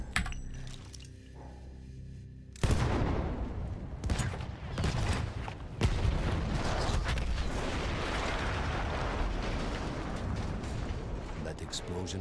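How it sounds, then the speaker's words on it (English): Dynamite blasts and gunfire in the video game Battlefield 1: a sudden loud explosion after a quieter opening, then a second burst and sustained rumbling battle noise, with talk partly underneath. "That explosion was one of the sweetest sights of the war for me"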